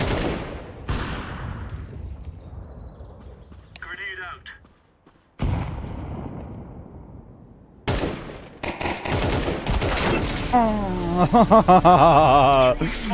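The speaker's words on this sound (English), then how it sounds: "This thing? It is loud. Well, it's an AK, of course it's loud." Loud bursts of AK rifle fire in a Counter-Strike match, sharp broadband cracks in clusters with gaps between them, mixed with game effects and a tonal sweep near the end.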